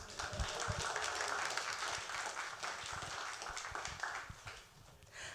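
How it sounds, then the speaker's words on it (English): An audience at a tech talk gives a round of applause, moderately dense clapping that stays fairly steady and fades slightly near the end, heard from a distance in a room. "Round of applause."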